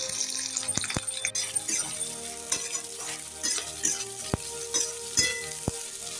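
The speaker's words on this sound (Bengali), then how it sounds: "ওই তেলের মধ্যে এখন সয়াবিনটা ভেজে নেব" Soybean chunks fry in oil in a pan after paneer, giving a steady close sizzle with scattered sharp ticks and clinks from stirring throughout.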